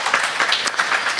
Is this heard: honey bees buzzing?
no